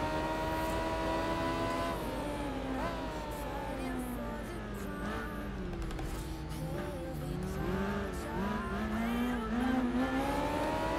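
Racing Kawasaki motorbikes in the video game Tourist Trophy whine and rev continuously, with engine pitch rising and falling through shifts and corners around a corkscrew track, several bikes overlapping at a steady moderate level.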